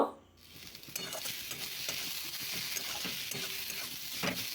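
Grated garlic and chopped green chilli fry in hot oil for an okra and fish roe curry, a steady crackling sizzle that starts right after a brief quiet moment, with a few faint stirring scrapes.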